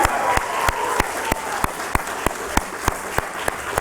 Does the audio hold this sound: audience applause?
yes